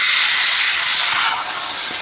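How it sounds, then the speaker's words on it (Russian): Chicken pieces sizzling in a hot frying pan, a loud, steady, close hiss of spitting oil that holds evenly throughout without pauses or voices. "Вы слышите, как оно шкварчит?"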